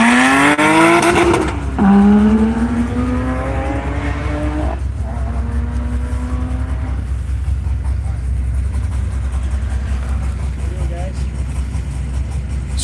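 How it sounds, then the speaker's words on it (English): Race cars on a wet track, among them a Tesla and a Lotus, pulling away; loud engine and tire noise with rising whine tones that fade as the cars leave, ending in a steady rumble under announcer speech. "Andrew away in the Tesla. Mark ready to go in the Lotus."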